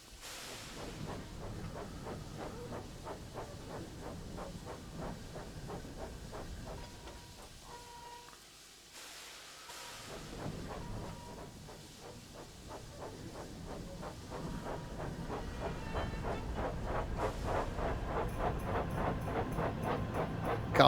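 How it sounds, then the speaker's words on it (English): Two steam tank engines in Train Sim World 6, coupled as a double-headed holiday train, chuffing with overlapping exhaust beats under a continuous hiss and rumble, fairly faint and steady. "we've got double chuffing going on"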